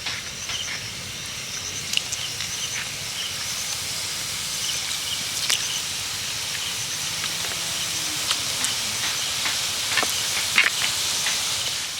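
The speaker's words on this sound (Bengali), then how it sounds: "বাকিগুলো একই রকমভাবে ভেজে নেব" Snacks frying in hot oil in a home kitchen, a steady soft hiss and sizzle running throughout, broken by scattered faint pops and crackles, with no talk.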